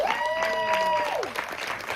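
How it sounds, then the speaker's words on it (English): An audience applauds at the close of a voting-rights presentation, a steady wash of clapping while a voice rises and falls over it. "Give yourselves a round of applause."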